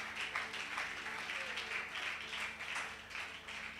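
Audience at a women's church congress applauding and cheering in praise, a faint, distant wash of clapping and voices across a large hall, sustained and even throughout.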